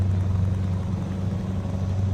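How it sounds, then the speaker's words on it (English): European truck with a 750-horsepower Mercedes engine drives along, a steady low engine drone and road rumble heard from inside the cab, loud and unbroken, with no talking. "It's got that 750 horse Mercedes engine in it."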